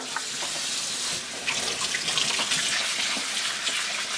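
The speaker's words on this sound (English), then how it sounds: "And I put a little cold water." Cold water runs steadily from a kitchen tap in a loud, continuous hiss, splashing into a pot of cooked shrimp in a home kitchen, with no talking.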